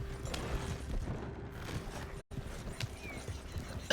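Horse hooves clip-clopping in the video game Red Dead Redemption 2, a steady walking rhythm of soft hoof beats at moderate distance, with no talk.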